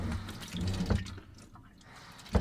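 A plastic water bottle gets a quick rinse under a running tap, with faint splashing and a couple of sharper sloshes and knocks at the sink.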